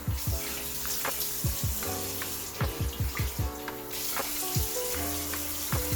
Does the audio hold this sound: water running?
yes